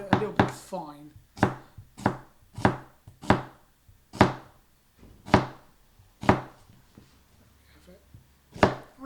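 A knife chops an onion finely on a board with about a dozen crisp, close, distinct strikes at an uneven pace, no voice.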